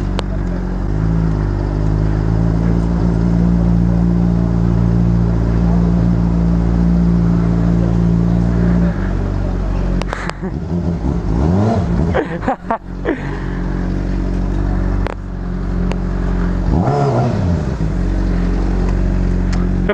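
A Honda CBR motorcycle engine holds a loud, steady droning idle for several seconds, then breaks into rising and falling revs with a few sharp bursts, heard up close throughout.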